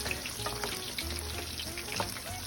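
Salmon bites frying in a pan make a steady, moderate sizzle with a few brief scrapes as the pieces are shifted around, close by and with no talking.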